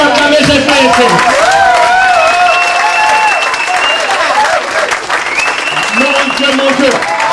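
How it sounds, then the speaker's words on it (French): A church congregation applauds and cheers for Jesus during a pastor's sermon, producing loud, continuous clapping mixed with cheering and tonal voices or music. "Est-ce qu'on peut acclamer Jésus ici?"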